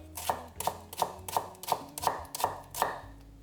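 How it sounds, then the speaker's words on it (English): Steady knife chops on a cutting board, vegetables being cut, eight crisp evenly spaced strikes about every third of a second, close and clear with no talking. "whenever you're chopping, you don't want to push straight down, you want to push slightly forward"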